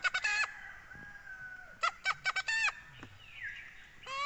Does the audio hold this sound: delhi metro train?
no